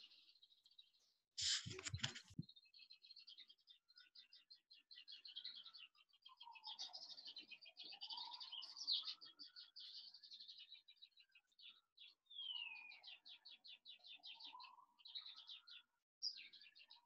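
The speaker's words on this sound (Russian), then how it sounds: "У меня птички поют." Birds sing and chirp outdoors in rapid trilling bursts and whistled phrases, continuous and fairly faint, with one brief louder knock near the start.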